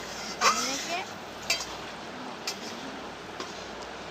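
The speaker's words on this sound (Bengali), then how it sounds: "এবার ভালো করে নাড়াচাড়া দেওয়া হলো" Someone stirs a cooking mixture of water and sugar in a pan. A utensil clinks against the pan about once a second over a soft background hiss.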